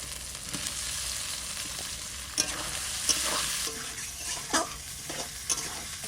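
Cumin, spices and potatoes frying in a pan for a sea Para fish curry: a dense, loud sizzle with a few sharp clinks and scrapes of stirring, and no talking.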